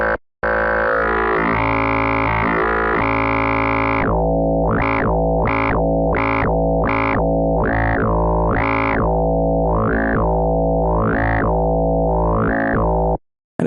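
FM bass synth patch with operator D's level raised and a vowel-like timbre: a loud, sustained, buzzy tone that becomes a rhythmic run of pulsing notes with wah-like vowel sweeps, alone without talk.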